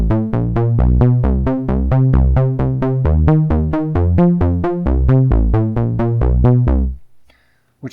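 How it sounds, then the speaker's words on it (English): Modular synthesizer driven by a sequencer, looping a fast pattern that alternates between a root note and its octave, with punchy, evenly spaced plucky notes running steadily for about seven seconds before stopping. "I went to my sequencer to create this pattern, and it's a root note, octave"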